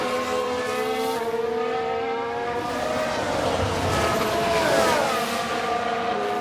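Formula One race cars, including an Aston Martin, in an F1 Manager 22 race replay. A continuous blend of engine whine and broad roar swells slightly toward the end, with no voices.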